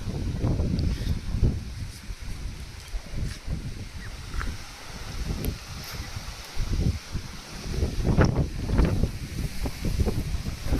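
Strong wind at a seashore roars and buffets steadily in low gusts, swelling louder toward the end, with no voices.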